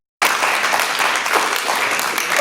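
A crowd at a Kwanzaa celebration event at Malcolm X College breaks into applause, a sudden loud burst of dense, close clapping that continues steadily throughout.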